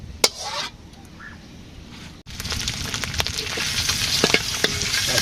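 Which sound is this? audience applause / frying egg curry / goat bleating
frying egg curry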